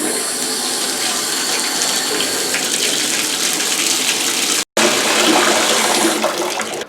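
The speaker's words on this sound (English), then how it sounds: "Let some water go into the pipe." Loud water rushes steadily from a faucet into a plugged sink drain during plunger unclogging, a continuous gushing wash that runs for several seconds with only a momentary break near the end.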